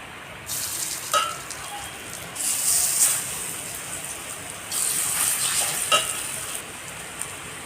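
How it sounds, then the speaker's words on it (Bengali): Raw banana pieces fry in hot oil, giving a steady broadband sizzle with a few louder crackling bursts and swells throughout, close by, with no talking. "আর বাটিগুলো তো একইভাবে আমি ভালো করে ভেজে নেবো"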